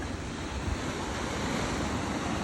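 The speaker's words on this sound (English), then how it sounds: "We've had a lot of waves in the last few days, really big surf" Big hurricane-driven surf rolls onto the beach at Wailea Point in a continuous deep roar, with wind buffeting the microphone and no one speaking.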